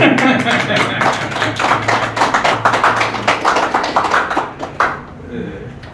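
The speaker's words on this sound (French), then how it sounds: "Je crois qu'on peut l'applaudir" A crowd of guests at a civil wedding ceremony in Pretoria claps in a dense, steady burst of applause lasting several seconds, with a voice speaking over it before it fades.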